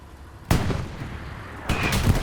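Anti-tank gun rounds slam into a 76 tank in Hell Let Loose: two loud, sharp impacts about a second apart, each followed by a rumbling tail over quieter battlefield ambience.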